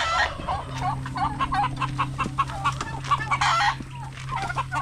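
A flock of chickens with young chicks clucks and chirps continuously at close range, a steady busy chatter of overlapping calls with no talk.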